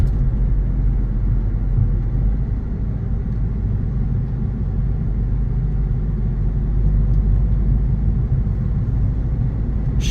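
A 2013 Volkswagen Beetle 2.0 TSI on a road test, a steady low rumble of engine and road noise throughout from inside the cabin, with no speech.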